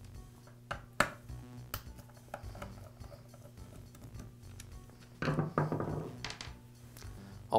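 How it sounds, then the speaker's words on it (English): Screws being backed out of the oil pump assembly on a Poulan chainsaw, with scattered close knocks, clicks and metallic taps of a tool against the saw housing, quiet and irregular with no talking. "Now I can remove the oil pump assembly. It's held in place with two screws."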